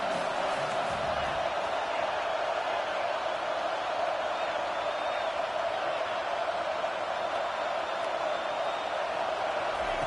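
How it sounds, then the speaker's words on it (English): A college football stadium crowd roars steadily behind the defense on third down, a continuous wide wash of cheering that sounds distant, with a commentator talking over it. "Decibels rising as the crowd gets behind this defense on 3rd down."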